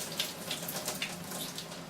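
Pasta water pours from a pan into a kitchen sink, a continuous soft splashing rush with faint droplet patter, fairly quiet and steady throughout with no talking.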